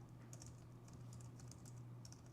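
Rapid clicking keystrokes on a computer keyboard patter quietly and close, in uneven bursts over a low steady hum.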